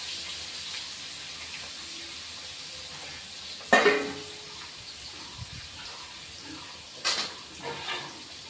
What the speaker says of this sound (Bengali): এখন মাছটা দিয়ে দিচ্ছি। মাছটা আমার দুবারে ভাজতে হবে